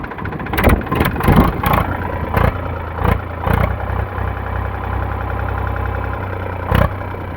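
A 2015 Eicher 485 tractor engine runs at idle with a loud, steady low rumble, broken by several sharp bursts and knocks early on and one more near the end.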